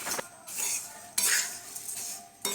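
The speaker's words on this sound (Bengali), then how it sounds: "নুন একটু চিড়ে ভাজা করে নিচ্ছি।" Flattened rice is stirred and fried with salt in a pan. A utensil scrapes and rattles against the metal in several bursts, with a light sizzle in the gaps, close and clear, with no talking.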